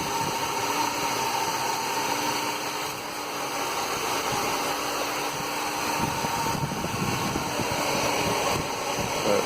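Steady idle of a hot Chevrolet Cavalier engine in park, heard as a continuous close hum with fan-like whir and broadband noise, unchanging throughout with no talking.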